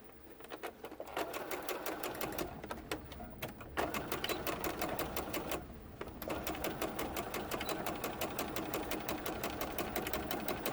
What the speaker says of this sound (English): So now I'm going to sew this down.